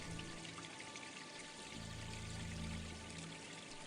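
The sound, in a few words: flowing stream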